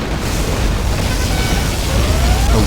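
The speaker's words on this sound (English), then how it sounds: "Releasing particle cannon." A particle cannon blast in the game C&C Generals Zero Hour makes a loud, sustained, roaring explosion with a heavy low rumble and no talk over it.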